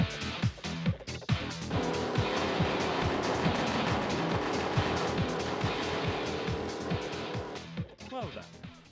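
Racing Apex, an arcade racer in the style of Daytona: race car engines roar steadily throughout with rhythmic revving and shifting, punctuated by short bursts, while a voice talks over the game sound.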